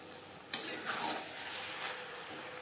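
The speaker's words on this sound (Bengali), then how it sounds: "মশলার সাথে আলু বেশ ভালো করে মিক্সড করে দেবো।" Potatoes tossed with spices in a pan over a high flame, a steady sizzle with scraping stirring strokes that start sharply after a brief quiet moment and continue without talk.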